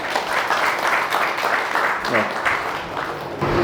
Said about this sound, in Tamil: அவங்களுக்கு ஒரு கைத்தட்டல் கொடுத்துடலாம்